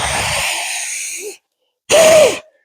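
Two forceful breaths during a home breathing exercise: a long, rushing exhale close to the microphone, a brief pause, then a shorter, sharper blow of air with a slight whistling tone.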